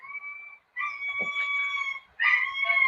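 A dog howls in sustained, wavering tones, three drawn-out howls separated by short breaths, fairly close and clear with nothing else audible.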